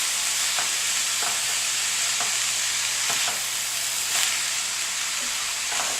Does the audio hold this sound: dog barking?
no